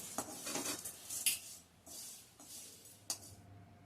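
Flattened rice (poha) being dry-roasted in a pan over a high flame for chivda, with scattered scraping and light metallic clinks of a utensil stirring against the pan, close and fairly quiet.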